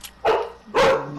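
A dog barks twice in quick succession, loud and close, each bark short and sharp.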